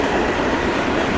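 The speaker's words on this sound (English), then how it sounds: "A nice train meet today here tonight." A freight train rolls past at a Germantown, Maryland train meet, including a Maryland Midland hopper car, a loud close continuous rumble of wheels on rail.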